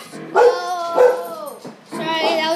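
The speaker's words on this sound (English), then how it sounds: "Sorry, that was my dog." A dog barks close and loud, two sharp barks in quick succession followed by a longer whining bark, with no speech over it.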